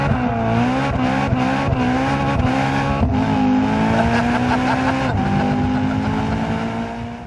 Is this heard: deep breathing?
no